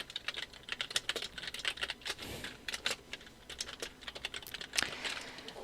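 Rapid typing on a computer keyboard at a desk, a steady patter of quiet, close key clicks with a few louder strokes and no talking.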